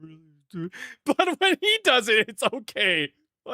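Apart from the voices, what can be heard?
No everyday noise stands out behind the speech.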